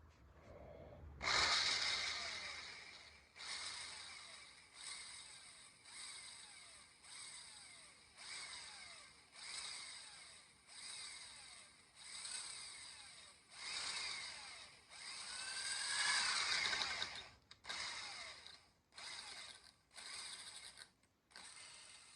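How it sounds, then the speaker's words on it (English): A drill grinds through a metal shaft in repeated rhythmic bursts, each rising and easing off, with a scraping, high-pitched edge throughout. "Well, I drilled through it."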